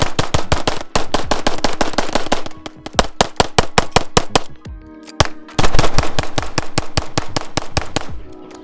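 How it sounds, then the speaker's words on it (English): Rapid magazine dumps from a cheap 2011 pistol under a torture test, loud close cracks in quick, steady strings with short gaps between mags. "we're entering mag dump territory"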